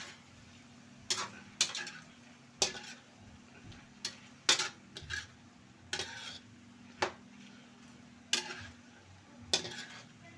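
A utensil scrapes and clacks against a pan while creamy tofu, hotdog and bok choy are stirred, about a dozen sharp close knocks at uneven intervals over a soft, steady sizzle.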